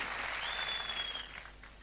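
Audience applause at a motivational business seminar: steady broadband clapping from a crowd that stays loud, then begins to thin toward the end, heard alone with no talk.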